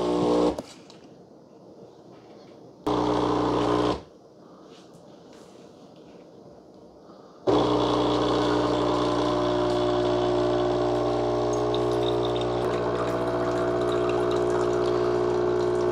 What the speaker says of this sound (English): I've got it on espresso, double shot, and hit the play button.